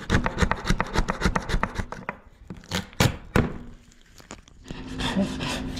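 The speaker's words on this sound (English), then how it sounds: "Now I'm just scraping a lot of the glue residue off here with my flat razor blade" A flat razor blade scrapes glue residue off a tabletop in an Airstream, giving a fast run of rasping strokes, then a few slower, heavier scrapes and a longer grinding pass.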